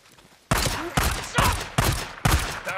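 Gunfire in the video game Days Gone comes as five loud, sharp blasts spaced about half a second apart, each with a brief rumbling tail, with no voices over them.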